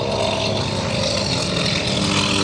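A North American T-28 Trojan with a nine-cylinder, 1,425-horsepower radial engine passes at an airshow, a loud, steady engine roar filling the whole moment.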